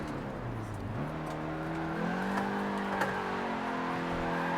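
An NA Mazda Miata's engine in a racing video game gives a steady, buzzing drone that climbs in pitch as it revs up, close and continuous, with no voices over it.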